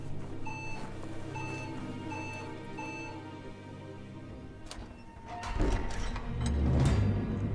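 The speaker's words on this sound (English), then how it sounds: "Is it just gonna keep beeping, or should I actually leave?" In the game Biomutant, a steady electronic beep repeats at an even pace over a low hum for several seconds, then gives way to rumbling, clattering game sounds.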